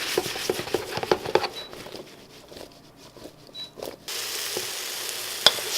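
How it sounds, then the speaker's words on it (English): Sweet potato and carrots sauteing in a pan, a soft steady sizzle with light patter and occasional stirring clicks, close and moderate in level with no talking. "now that I've sauteed the sweet potato and the carrots a bit"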